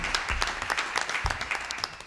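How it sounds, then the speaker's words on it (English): An audience at a public monuments meeting in Manhattan gives moderate applause, with scattered individual claps that are distinct and fairly close, keeping up for a couple of seconds. "I guess you could clap now for everybody."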